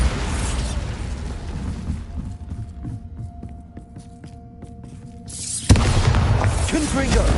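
A Bombarda explosion spell in the Hogwarts Legacy video game: a low hum and scattered clicks build slowly, then one heavy, close blast erupts near the end and leaves a loud, rumbling wash, with a voice faintly underneath.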